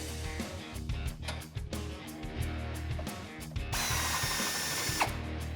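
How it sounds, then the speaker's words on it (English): Ratchet with a 15 mm socket removing a bumper support bar bolt on a 2007-2013 Chevrolet Silverado 1500, rapid close clicking strokes followed by a harsher continuous mechanical rattle, no talking. "we're going to remove the bolt holding on the bumper support bar. We're going to use a 15 millimeter socket"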